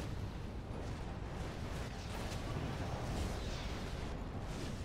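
A fire trap burns in Dragon Age: Origins, giving a steady, loud roar of crackling flame that holds without a break for the whole stretch, with no one talking over it.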